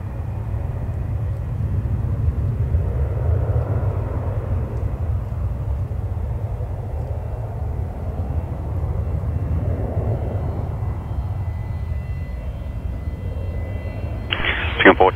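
A departing airliner on runway 03 of an airport roars steadily as a continuous low engine rumble, constant in level throughout, with a short burst of higher noise at the very end.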